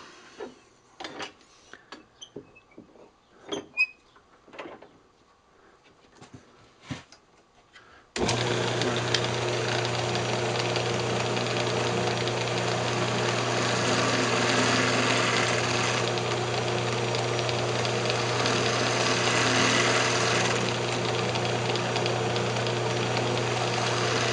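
After some quiet handling knocks, a wood lathe starts up and hums steadily and loudly at close range while turning the lid of a cocobolo wood box, with a continuous motor drone and slight rhythmic rattle.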